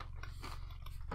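Crunchy-shelled chocolate mini eggs, an Easter treat, being bitten and chewed close to the mic, with quick crackling crunches over a low steady hum and no talk.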